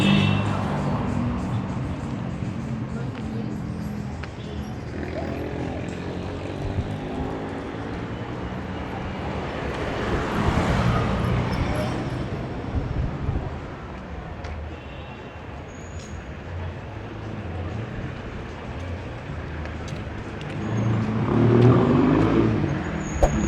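Busy street traffic on Calle Infanta, a heavily used avenue in Havana, Cuba: continuous car engine noise with vehicles passing close by and a louder surge near the end, under a steady urban hubbub.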